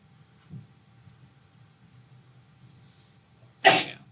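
A single sharp sneeze bursts out loudly near the end, after a faint cough-like sound and quiet room noise in a classroom setting.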